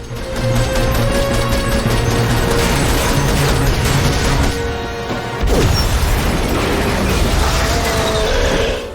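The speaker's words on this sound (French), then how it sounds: "des explosions" Loud, dense crashing and booming explosions and vehicle destruction fill the whole stretch of an action-film scene, with a sharp burst midway and continuous rumble throughout, mixed over a driving musical backdrop.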